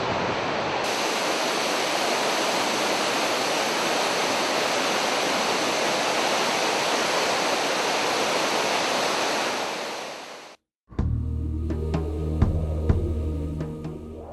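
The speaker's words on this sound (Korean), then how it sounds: "넓이가 366m에 높이 46m로 아프리카에서 빅토리아 폭포 다음으로 큰 폭포입니다." A powerful Ethiopian waterfall, 366 m wide and 46 m high, roars in a dense, continuous rush of water, loud and unbroken, before the sound cuts abruptly to quieter outdoor ambience.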